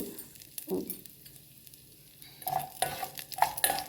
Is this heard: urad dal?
yes